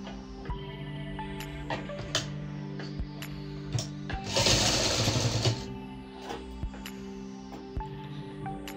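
Sewing machine stitching a fabric strip onto a baby cap, a close steady mechanical whirr with regular ticking needle strokes, a louder burst of fast stitching midway, and no talk.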